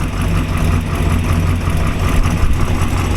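A 1949 Chevrolet convertible mild custom with dual four-barrel carburetors idles steadily and close by, a low continuous rumble with an even throb and no voices.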